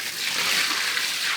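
Hot water poured onto a barn floor during cleaning after milking, a broad steady gushing splash that stays loud for the whole moment without a break.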